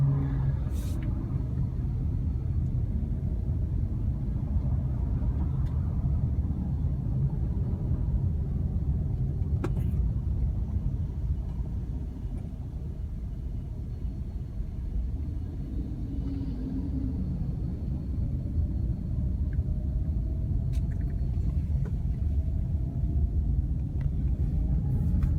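Heavy road traffic at LAX airport forms a continuous low rumble of passing cars, with faint engine hum and occasional distant higher tones, steady throughout without speech.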